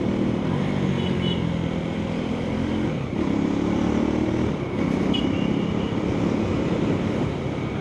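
A Husqvarna Svartpilen 401 motorcycle rides along with a steady engine drone and wind rush, engine pitch shifting abruptly twice as quick downshifts are made without the clutch.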